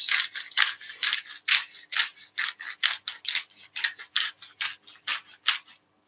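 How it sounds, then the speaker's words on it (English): A pepper mill grinds black pepper over baguette French bread pizzas, a rapid run of dry crunchy ticks in steady bursts, close and clear with no voices. "it would be rude not to add a grind of black pepper"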